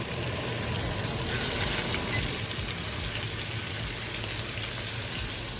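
Steak frying in a pan, a steady close hiss of sizzling fat that stays even and continuous.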